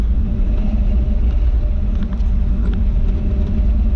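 A classic Ford F100 truck with a 352 FE V8 engine and Autolite 4100 carburetor rumbles steadily and loud, a low continuous engine drone without a clear rev.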